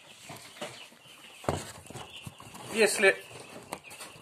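Young chicks cheeping in a brooder, scattered high thin peeps rising in a brief cluster near the middle, faint and somewhat distant, with someone speaking and a sharp knock heard alongside.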